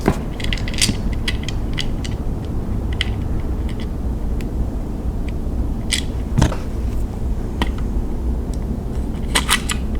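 Screws being driven into the side of a smart plug receptacle and tightened, giving small clicking, ratcheting mechanical sounds in short bursts throughout, fairly close with no talking.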